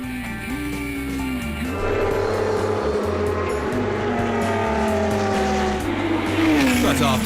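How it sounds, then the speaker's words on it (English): Historic race cars, among them a 1979 Lola T298 BMW and two Marches, roar off the start at Spa, engines rising in pitch as they accelerate, loud and layered, with a commentator talking over them. "Off the start, the driver of the Lola T298 BMW from 1979 gets the better of the two marches of Britain's Doug Hart and Paul Knapfield."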